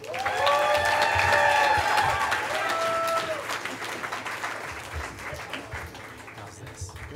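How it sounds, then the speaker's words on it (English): An audience at a Moth storytelling event applauds and cheers for Regina, a dense wash of clapping with a few whoops and voices that gradually thins out toward the end. "Let's give a big round of applause for Regina."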